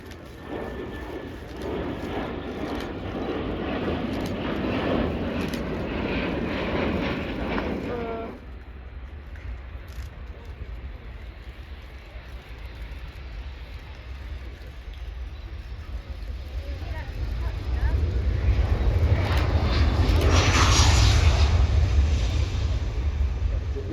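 Wedgetail AW1 early-warning aircraft passing at an air show, a broad jet roar that fades, then builds and swells toward the end amid wind noise and outdoor crowd ambience.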